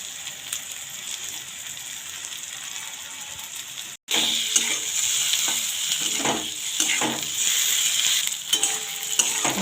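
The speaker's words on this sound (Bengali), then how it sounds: "বেগুন ভাজা ভাজা হয়ে গেছে," Eggplant frying in hot oil, a continuous close sizzle broken by a brief gap, then louder with repeated scraping and clacking as a spatula stirs the pieces.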